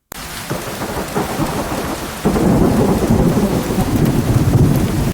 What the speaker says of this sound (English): It was a heavy, gray downpour that turned the woods outside into a wall of mist.